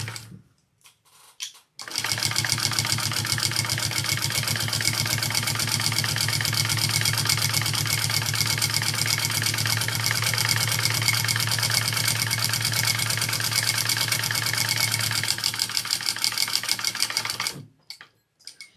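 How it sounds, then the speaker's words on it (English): Sewing machine basting a seam with foam piping on a fabric bag, running loud and steady at close range for about fifteen seconds before stopping, with a brief start and stop at each end. "I'm going to take it to my machine and baste."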